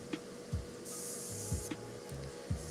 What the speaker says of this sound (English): So I'm gonna spray just a little bit of this this dark ochre yellow color into the shadows